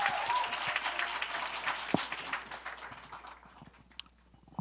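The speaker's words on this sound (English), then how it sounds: "Let's give him another round of applause" Audience applause at a screening and discussion event, a sustained wash of many hands clapping that gradually thins and fades, with a few louder individual claps near the end.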